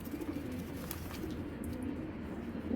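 Giribaj pigeons coo steadily in a low, continuous murmur, several birds close together with no talking.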